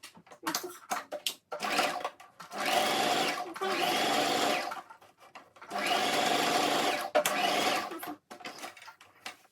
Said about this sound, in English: to my sewing machine and stitch it down from here down